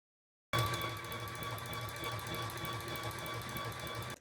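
A small electric i-cord knitting machine, a Caydo i1 Pro, whirs steadily with a fast mechanical rattle and a faint high whine, continuous and fairly quiet, with no voices.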